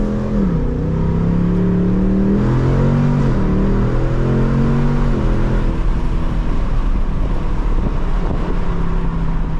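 A 2024 Ford Mustang GT with full exhaust revs sharply as it downshifts through the gears, each blip rising and falling close by inside the car, with steady road and wind roar beneath.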